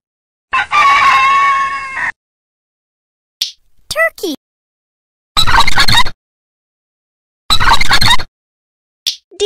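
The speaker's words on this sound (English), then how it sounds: "Rooster." A rooster crows loudly and close, followed by a couple of short squawks and two more full crows separated by silence.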